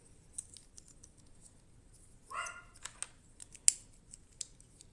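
Plastic parts of a model car kit click and snap together in a few sharp, close taps, with one brief scraping rasp in the middle, over a quiet background.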